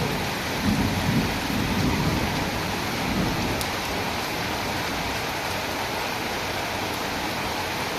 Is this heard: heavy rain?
yes